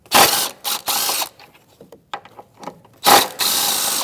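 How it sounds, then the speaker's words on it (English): Ratchet and socket loosening 15mm upper rear shock mount bolts on a 2016–2025 Chevrolet Malibu, heard as several short bursts of close, loud clicking with quieter mechanical ticks in between. "it's a 15mm. I prefer a socket, and we're just going to take these off."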